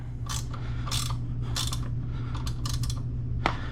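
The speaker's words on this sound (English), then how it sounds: "I'm just literally tightening this until it feels snug." A bolt being tightened on a Grom clone motorcycle, with a run of close ratchet clicks in short bursts over a low steady hum, no voices.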